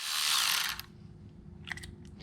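A ratchet loosens a T30 bolt on a Ford 4.0L SOHC engine during timing chain work, giving a loud burst of rapid clicking followed by quieter faint metallic ticks.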